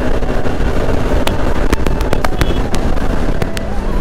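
A Bajaj Pulsar RS200 motorcycle's exhaust pops and crackles in sharp irregular bursts over a loud, continuous engine rumble, close by.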